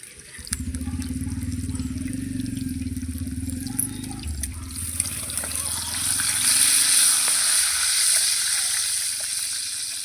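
Eggs frying in a pan for a village-style egg pickle give a steady, close sizzle with crackling hiss and scattered pops that swell louder toward the end.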